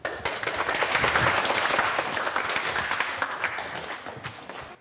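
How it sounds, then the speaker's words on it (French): An audience at a circus show under a big-top tent applauds the performers, with dense, steady clapping that starts sharply and fades slightly toward the end. "D'accord, on peut les applaudir"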